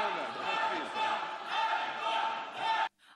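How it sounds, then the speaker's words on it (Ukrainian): Loud, continuous shouting from many voices fills a parliament chamber, swelling in waves before cutting off abruptly near the end. "Вигуки, ганьба і заблокована трибуна."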